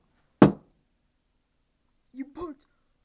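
A single sharp, loud knock on a door breaks the silence, followed after a pause by a brief spoken voice.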